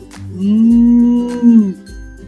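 A person imitates a cow with a long, low sustained moo, steady and close, fading out at the end.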